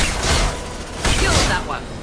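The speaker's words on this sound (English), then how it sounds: "Shotgun." Shotgun blasts in the sci-fi shooter Mass Effect 2 during combat, dense bursts of gunfire and booms over a noisy battle background, with voices talking amid the fighting.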